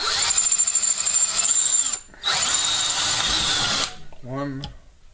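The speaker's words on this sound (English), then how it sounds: "Just gotta drill these two holes out." A loud, high-pitched power drill whines through two bursts of drilling holes in an aluminum bracket, about two seconds each, then winds down to a short rattling stop.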